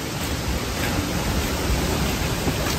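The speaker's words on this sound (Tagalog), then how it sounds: "Tapos ang hangin." Strong typhoon wind blows over a flooded yard in front of a house, a loud, constant broadband roar with no voices.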